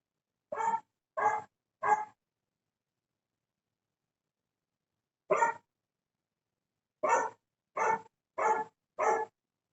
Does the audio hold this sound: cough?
no